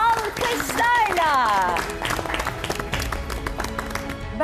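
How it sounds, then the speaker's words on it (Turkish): A studio audience on a Turkish television cooking competition claps in farewell, scattered applause mixed with loud, overlapping talk and music-like tones, thinning into irregular claps toward the end. "Alkışlarla."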